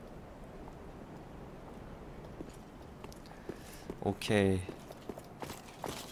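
Footsteps of an enemy in the game Dark Souls 3: a few soft, scattered steps at moderate loudness within busy game ambience, with a player speaking over part of it.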